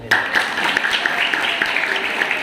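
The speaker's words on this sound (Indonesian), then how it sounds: "Tepuk tangan saudara." Audience applause at a motivational event in Indonesia, a continuous wash of clapping with a faint voice underneath, steady and fairly loud throughout.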